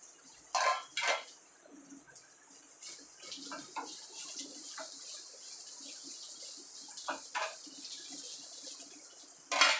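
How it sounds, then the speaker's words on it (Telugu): A utensil clatters and scrapes against a pan while fried okra, peanuts and curry leaves are tossed together, in soft irregular clinks with a few sharper knocks, fairly faint and close. "తర్వాత మనం వేపుకున్న బెండకాయ, పల్లీలు, కరివేపాకు అన్నీ వేసుకొని కలుపుకుందాం."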